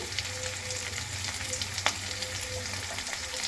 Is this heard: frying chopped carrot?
yes